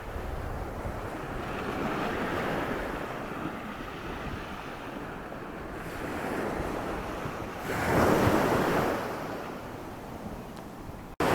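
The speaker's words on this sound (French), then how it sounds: "le bruit des vagues" Ocean surf rolls and crashes in broad washes while wind buffets the microphone, with a stronger wave surging near the end.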